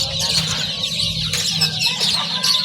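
A dense mix of many birds calls at once at the Bocaue pet market, with clucking and crowing fowl among them, a steady, loud and busy chorus close by with no pause.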